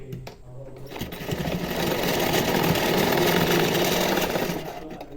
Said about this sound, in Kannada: ಹುಕ್ಪಟ್ಟಿ ಮೇಲೆ ಒಂದು ಸ್ಟಿಚ್ ಹಾಕೊಂಬಿಡಿ